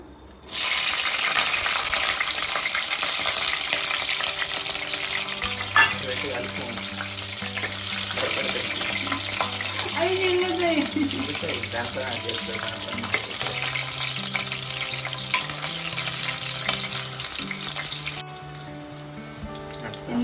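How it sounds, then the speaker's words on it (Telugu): Green chilies fry in hot oil for a crab curry, a loud, steady crackling sizzle that carries on close by for the whole stretch and eases slightly near the end. "ఇప్పుడు మిర్చీలు వేసుకుందాం."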